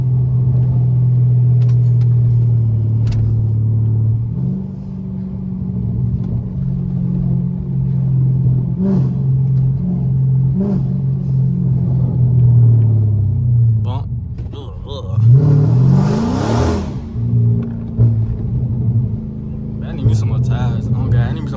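A Dodge SRT engine rumbles loudly and steadily, rising and falling as it revs while sliding through a neighborhood, with the drone shifting pitch at intervals and voices talking over it.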